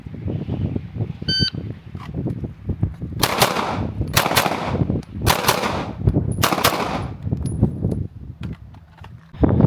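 Pistol shots fired in quick doubles at an outdoor shooting range, four sharp bursts of two cracks each, loud and close, with a short electronic beep from a shot timer at the start.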